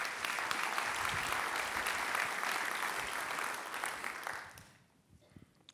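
Audience applause at a Long Beach city development presentation, a sustained round of clapping from a large indoor crowd that fades out near the end.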